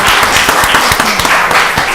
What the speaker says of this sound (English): y'all give her a round of applause as she comes